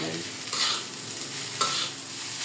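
A spatula scrapes and stirs egg in a sizzling pan while making fried rice, with two distinct scraping strokes over a constant frying hiss.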